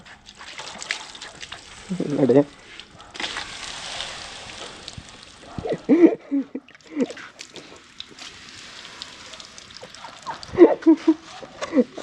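Water is poured over a vehicle to wash it near a house, giving close splashes and trickling bursts that come and go over twelve seconds, with a person talking between and over them.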